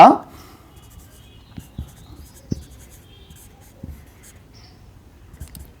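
Pen writing on paper while working a tenth-grade geometry problem, with faint scratchy strokes and a few light taps at irregular intervals, close and quiet after a brief voice at the very start.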